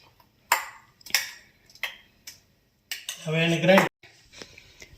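A spoon mixes ghuto, a Jodiya-style vegetable dish made without oil or spices, in a metal pot, with sharp separate clinks and scrapes spaced about half a second apart, then a spoken voice, then one more faint clink.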